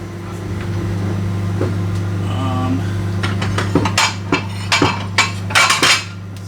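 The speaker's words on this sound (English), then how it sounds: "And then I need a plate." Plates and dishes are handled in a home kitchen while garlic bread is made. A few sharp clinks and clatters come close and loud in the last seconds over a steady appliance hum.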